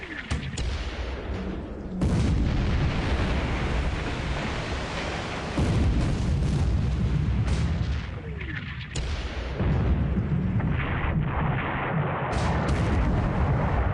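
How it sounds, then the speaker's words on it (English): Naval battle in a Pacific war video game, with continuous dense gunfire and booming explosions layered into a loud, roaring barrage that surges in fresh waves every few seconds. "Internal explosion, that's very bad."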